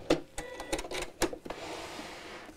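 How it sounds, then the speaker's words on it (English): A sewing machine stitching a quarter-inch seam straight across crisp fabric, a few short irregular mechanical clicks and whirs, close and fairly quiet. "So we'll stitch straight across the top with a 1/4 inch seam allowance, or 6mm seam allowance."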